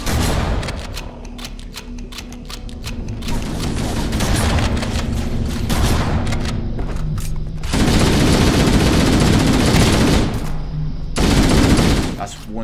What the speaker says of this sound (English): That was a shotgun at least.